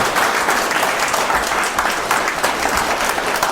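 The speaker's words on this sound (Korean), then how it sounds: "박수 한번 치보세요" An audience claps steadily during a Buddhist monk's special lecture at a tax office in Changwon, South Korea, producing dense, loud, continuous applause with slight surges in rhythm.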